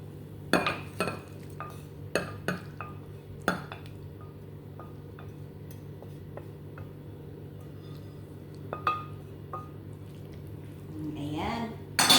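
Cooked adobong kangkong, water spinach adobo, spooned into a bowl, a handful of sharp clinks and taps of a utensil against dishware, spaced out, with a louder scrape near the end over low background hum.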